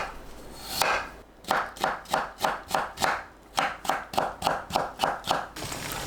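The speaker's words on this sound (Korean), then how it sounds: "감자를 채 썰어 주세요" A knife julienning potatoes on a cutting board, a close run of crisp, evenly paced chops with a brief pause partway through the sequence.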